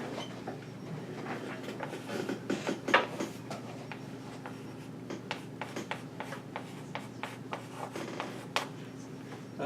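Marker or chalk writing on a board during a math lecture: a steady run of light taps, clicks and short scratchy strokes at moderate distance, with no talking.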